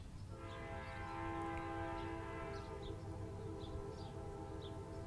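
Train passing near Bear Mountain, a sustained tonal horn-like drone lasting several seconds over steady outdoor background noise, faint and distant with no talking.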